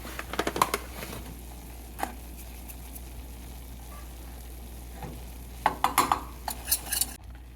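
Flour and butter roux cooking in a pan for mac and cheese, a soft sizzle under scattered metal spoon clinks and scrapes, busier near the end.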